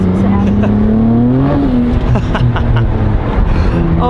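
A sports car's exhaust roars as it accelerates, pitch climbing then shifting through gears, loud and close with a voice speaking briefly over it.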